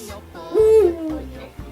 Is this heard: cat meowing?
no